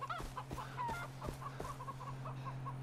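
Chickens cluck in the game Far Cry 3, a series of short rhythmic clucks over a steady low hum from the game's ambient sound.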